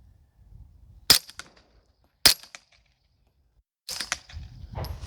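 Suppressed rifle shots from a DeadAir Wolfman suppressor fired into a tree outdoors: two sharp, loud cracks about a second apart, each with a short ringing tail, followed by a burst of rustling and knocking noise.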